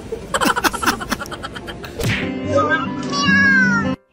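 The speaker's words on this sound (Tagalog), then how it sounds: "Ang cute na pusa." A cat meows repeatedly up close, a run of short rhythmic cries leading into a longer drawn-out wail, loud against a quiet room.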